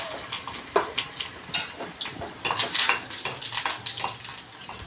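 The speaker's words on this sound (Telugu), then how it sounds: "పోపు దినుసులు అయిపోయిన తర్వాత, వేగిన తర్వాత ఎండుమిర్చి వేసుకోవాలండి" Dried red chillies and curry leaves sizzle and crackle in hot oil, with bursts of spattering and a stirring clatter against the pan, loud and close without talk.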